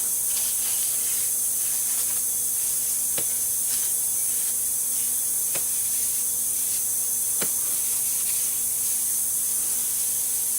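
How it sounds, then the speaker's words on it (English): Lacquer thinner is sprayed around the outside of a 2006 Husqvarna YTH2242T lawn tractor engine, a constant close hiss with a few faint clicks and knocks underneath, no speech. "I'm going to use my lacquer thinner to go around the outside."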